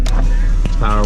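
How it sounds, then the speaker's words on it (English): A power window on a 2001 Jeep Cherokee XJ Sport hums briefly as it moves inside the cabin, a short electric motor whine rising near the end under steady low engine rumble. "Power windows work."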